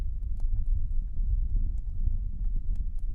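Two horses, a sturdy bay mare and a rangy sorrel gelding, ridden out at a steady pace, their hooves making a dense, continuous low clatter of clip-clop steps close by with a little wind noise and no voices.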